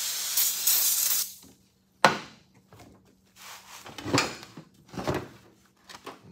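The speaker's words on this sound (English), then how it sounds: "we're gonna see if we can waste some more brake cleaner here" Brake cleaner hisses onto the oil tank of a NASCAR racecar dry sump system: one long close spray followed by several shorter, sharper bursts and a faint low hum.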